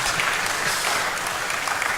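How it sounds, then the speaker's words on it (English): An audience at a university lecture series in Ogbomoso claps together, a steady, even patter of many hands filling the short stretch without any talk. "Let's clap for him"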